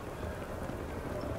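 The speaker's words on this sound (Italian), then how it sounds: "Sì, sembra che stia piovendo." Rain falls in New Atlantis in the video game Starfield, a steady soft hiss of drops pattering on surfaces. The even, continuous wash holds at a moderate level, with faint background sound beneath it.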